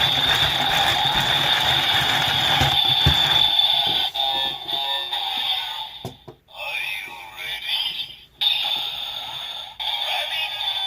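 Ratcheting clicks from cranking the lever of a Kamen Rider Evol Driver toy belt, a steady mechanical whirring that breaks into stuttering bursts and resumes, close and fairly loud with no talking.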